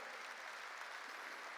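A church congregation claps during a Korean sermon, a faint, steady burst of applause lasting under two seconds.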